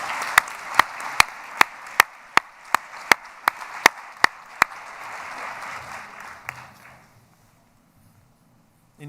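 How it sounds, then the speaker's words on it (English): Claps ring out at an IT conference awards ceremony as winners come to the stage, a diffuse applause wash punctuated by sharp, evenly spaced loud claps, then fading out to near silence. "let's give them all a round of applause as they come to the stage"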